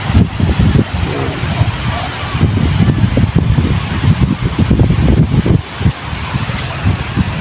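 Strong wind gusts buffet the microphone at a seashore where two boats set out, producing a loud, steady low rumble with surging swells throughout.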